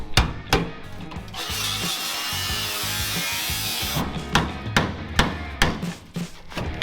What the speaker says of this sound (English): This is called the seam buster because it busts through the seams.